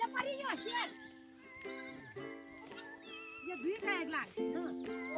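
A herd of goats in a high Himalayan pasture bleats repeatedly and loudly, the wavering calls overlapping close by, with young kids among them.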